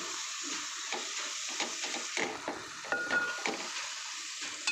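Mustard seeds, dried red chillies, onions and curry leaves crackle and sizzle in hot oil, with close, repeated stirring scrapes over a continuous hiss and no voices.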